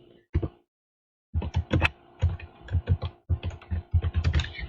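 Rapid bursts of keystrokes on a computer keyboard entering a switch port security command in Cisco, quick clusters of close, crisp clicks broken by short pauses, with no voice.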